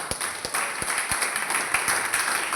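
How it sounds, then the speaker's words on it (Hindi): Audience applause for Mr Shatrudhar Tiwari at a training session, a steady wash of clapping with a few sharper individual claps standing out, fairly close and sustained throughout. "उसी में हमारे एक ताली बजाएं आप लोग मिस्टर शत्रुधर तिवारी सर के लिए"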